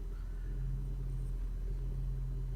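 A 2019 Audi Q7 engine under light throttle during automated parking gives a steady, low idling rumble heard from inside the cabin, with no clear rise in revs.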